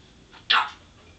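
A voice imitates a dog barking while singing a farm-animal song at home, giving a single short bark-like yelp, close and fairly loud against quiet room noise.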